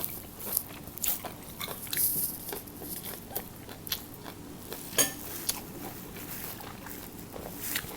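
Crispy fried tilapia fish head is bitten and chewed in a series of quiet, close crunches and crackles spaced irregularly, with faint clinks of dishes in the background.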